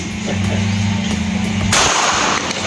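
Pistol shots at a shooting practice, a loud close blast cutting sharply through a droning background with a ringing tail after it.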